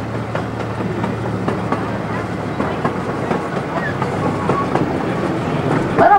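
The Iron Horse miniature train at a zoo rolls along with a steady close rumble and rhythmic clacking of wheels on track, carrying on without a break.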